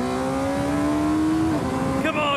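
Radical race car launching on a track, its engine note climbing steadily in pitch through the gears with a brief shift dip before revving higher again, loud and close.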